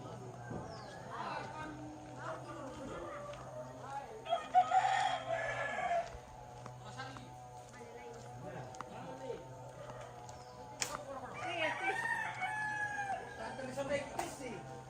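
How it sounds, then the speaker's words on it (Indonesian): A rooster crows loudly in two bursts during preparations at lodgings for a Toraja church building dedication, with people talking throughout. "Jago."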